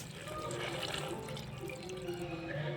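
About a cup of water poured into a pressure cooker pot of Kathiyawadi-style stuffed brinjal and potato curry on a low gas flame, a steady close splashing pour that runs the whole moment.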